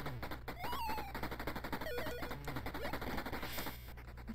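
Rapid retro machine gun fire in an Evercade video game, a dense continuous rattle of shots mixed with chiptune-like beeps and tones, fairly quiet overall.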